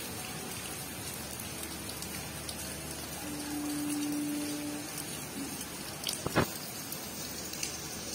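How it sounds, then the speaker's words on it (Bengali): Rain from a low-pressure system ahead of a cyclone pours down in a steady, even patter on surfaces, with a brief tonal hum in the middle and a few louder knocks and splashes near the end. "নিম্নচাপের বৃষ্টি শুরু"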